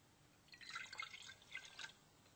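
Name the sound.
pouring alcohol into water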